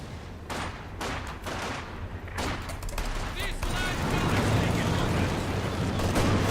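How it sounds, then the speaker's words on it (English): Gunfire in Company of Heroes 2, a rapid run of close rifle and machine-gun bursts that blend into a thick, continuous rumble of battle, with voices shouting over it. "Why are they shooting at us?"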